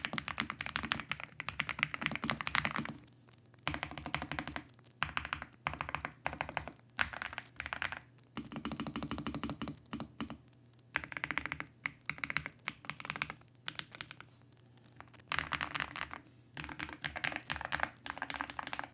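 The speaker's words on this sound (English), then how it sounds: "Here's a quick sound test of this keyboard" Rapid typing on a NuPhy Gem80 mechanical keyboard clatters in bursts separated by short pauses, crisp key clicks and thocks close up and fairly quiet.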